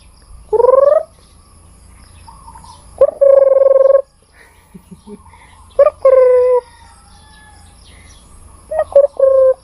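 A rooster crows at 3 a.m., four separate loud, close calls spaced a few seconds apart against a quiet night background, each a strained, rising-then-falling cry.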